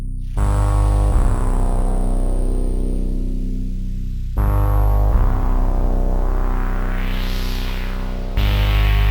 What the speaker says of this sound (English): Now let's add some beat reduction.